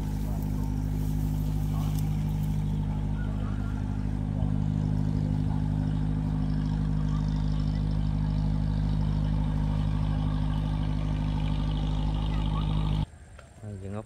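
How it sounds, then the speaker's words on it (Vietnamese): Motorized wooden ghe boat running on the water at Khanh Hoa, giving a steady, loud droning engine hum with a constant low throb that cuts off sharply near the end. "Thôi chiếc ghe độc nè cả nhà, ghe độc đang chạy."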